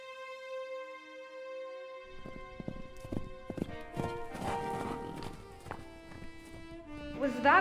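Horse hooves clip-clop in an audio drama, starting at a walk a couple of seconds in and continuing in a steady, close rhythm beneath a sustained musical backdrop, with a brief higher flourish near the end.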